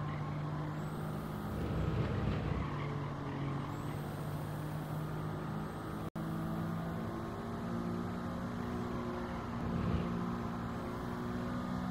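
A race car in Gran Turismo 7 runs through S-bends in third gear at Autopolis in a one-hour endurance race. Its engine drones steadily and loudly, pitch gently rising and falling, with a single brief dropout midway and no talking.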